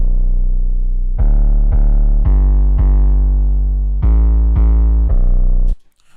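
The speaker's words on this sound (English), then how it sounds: "You probably have heard this type of melody or 808 pattern in a lot of beats." Chopped melody sample over an 808 beat pattern: deep booming bass hits land in an uneven rhythm beneath sustained tonal chords, loud and close, cutting off abruptly at the end.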